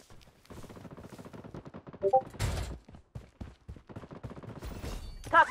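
Gunfire in the mobile shooter Blood Strike during a squads ranked match. Scattered shots and short bursts crack out, a few loud and near, with short electronic alert tones in between.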